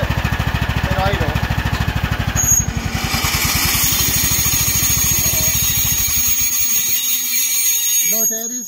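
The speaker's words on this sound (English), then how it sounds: "Now I'm going to put the blades on, and I'm going to do it at idle." Riding lawn mower with a noisy hydro transmission, engine idling with the blades engaged and the belt cover rubbing. A loud, steady, pulsing engine drone shifts in tone when the blades engage, then settles into a steady whirring hum.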